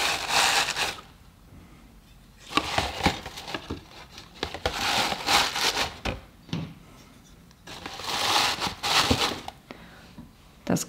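Glass jars decorated with stars, a small Baileys bottle and sweets are packed into a crinkly gift bag, giving bursts of crackling plastic rustle and soft clinks close by, separated by quieter pauses.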